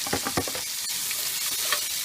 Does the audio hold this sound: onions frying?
yes